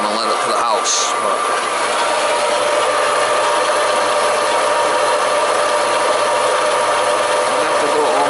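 A well jet pump running while being primed, giving a steady mechanical whir with a faint rattling texture at close range, with a few clicks at the start.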